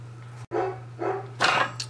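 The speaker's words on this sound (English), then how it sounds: "my dogs, when they hear knocking, they think someone's at the door" Dogs barking at household knocking, three separate nearby barks over a steady low hum, the last one loudest and sharpest.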